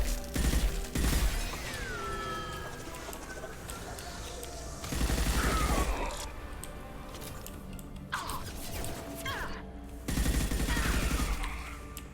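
Bursts of gunfire in Mass Effect 2 during the suicide mission, shooting at injection tubes: three loud volleys a few seconds apart, separated by mechanical hums and whirring tones.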